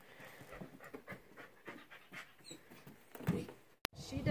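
A ten-week-old puppy pants softly and rapidly up close, then whimpers with a louder burst near the end, while people talk quietly over it.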